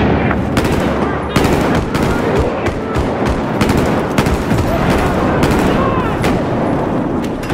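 Rapid machine gun fire in a video game, dense overlapping bursts of sharp shots rattling continuously and loudly for several seconds, with a voice faintly mixed in.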